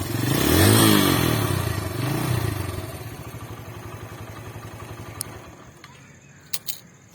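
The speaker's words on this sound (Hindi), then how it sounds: "थोड़ा सा हम आरपीएम बढ़ा के देखते हैं इसका साउंड टेस्ट किस तरह का।" A Suzuki GS 150 SE motorcycle engine revs up loudly, then settles back to a steady, throbbing idle that fades slightly, with a couple of sharp metallic clicks near the end.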